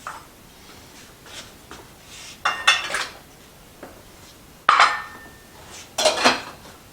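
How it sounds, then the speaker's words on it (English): Potatoes tumble into a cooking pot in a home kitchen, making several short clattering, knocking bursts of hard pieces against metal, fairly close and moderately loud between quiet pauses. "Add my potatoes."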